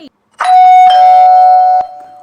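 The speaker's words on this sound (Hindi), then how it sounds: "तभी उन्होंने दरवाजे की घंटी की दस्तक सुनी" A doorbell sounds near and loud in a home, one sustained ringing chime that holds for over a second before fading, with a brief second strike near the end.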